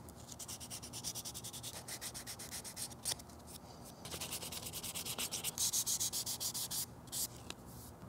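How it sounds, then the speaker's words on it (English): Sanding a resin-cast Skyrim dagger by hand, a close, steady run of rhythmic rasping strokes with short pauses between bursts and no voices. "I'm gonna do some more sanding"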